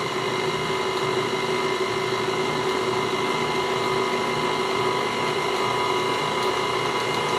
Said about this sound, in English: drape your towel over your mixer. Just turn it on low.